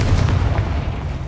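A Confringo blast spell from Hogwarts Legacy bursts with a deep, rumbling boom that rolls on through the whole short moment, loud and low, with no voices.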